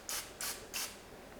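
Olive oil cooking spray misted onto a plate in three short hissing bursts, close and evenly spaced, in a home baking setting.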